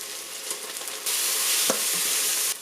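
Ginger garlic paste hits golden-brown onions in a Crock-Pot Express multi-cooker, a steady close sizzle that swells louder partway through, with a brief stir clink and no talk.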